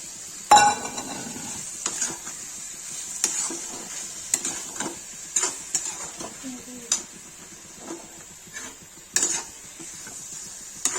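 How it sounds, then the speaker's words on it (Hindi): A spoon stirs Kashmiri-style potato and brinjal curry in a pan, making intermittent close scrapes and clinks over a soft simmering hiss. "इसमें मैं आलू पे बैगन हिला दूंगी"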